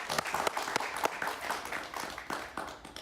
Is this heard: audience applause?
yes